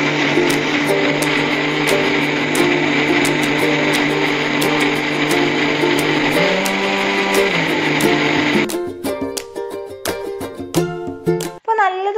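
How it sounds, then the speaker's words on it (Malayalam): A kitchen mixer grinder blends a jackfruit shake with a loud, steady motor whir for about nine seconds, then stops and gives a few short, sputtering pulses. "ഇത് ക്ലോസ് ചെയ്തിട്ടുണ്ട് കേട്ടോ മിക്സി ജാറ്. ഇനി നല്ലതുപോലെ ഒന്ന് അരച്ചെടുക്കാം."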